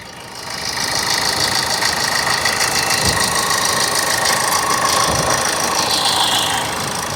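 A Chevrolet Sail 2013 or Maruti Alto 2006 car engine idling steadily and close, a constant mid-pitched hum with a slight knocking vibration that rises in at the start and holds without talk.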